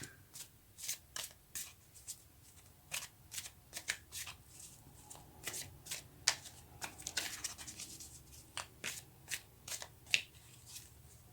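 Tarot cards shuffled by hand in quick, repeated riffles and flicks, a soft, close, rhythmic papery patter running the whole time without speech.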